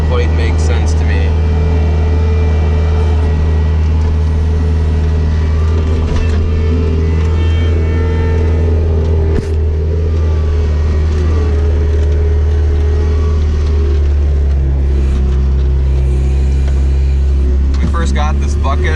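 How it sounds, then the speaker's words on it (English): A skid loader with a bucket pushes through deep blizzard snow drifts, its diesel engine droning loud and close with steady low hum and occasional revving, while someone talks over it. "I was worried that the skid loader was going to be a little underpowered for it"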